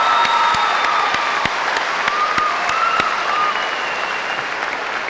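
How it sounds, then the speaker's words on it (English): A high school graduation crowd applauds a graduate with a full round of clapping, steady and fairly loud, with sharp individual claps standing out and a few whistles and faint cheers mixed in before it eases slightly. "Let's give her a nice round of applause."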